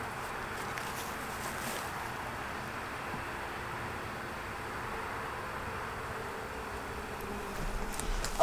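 Honey bees buzz around a newly set-up hive in a faint, continuous hum with no speech.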